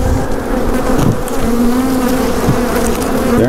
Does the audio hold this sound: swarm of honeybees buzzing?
yes